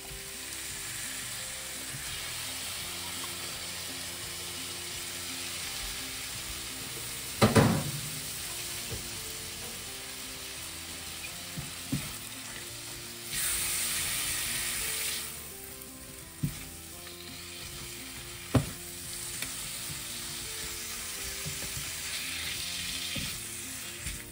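Chicken pieces frying in spiced oil in a pan, with a steady close sizzle and occasional clacks and scrapes of a spoon stirring through it, a few sharper knocks standing out; no one talks.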